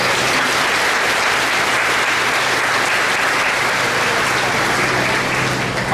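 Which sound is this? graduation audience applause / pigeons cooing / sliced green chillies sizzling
graduation audience applause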